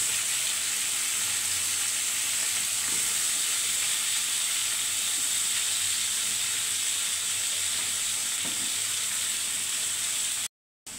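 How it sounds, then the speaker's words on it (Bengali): Steady, loud sizzling of hilsa fish frying in oil in a pan as chopped bottle gourd goes in, a continuous hiss with a few faint stirring knocks and no talk. "এখন লাউগুলো দিয়ে দিচ্ছি।"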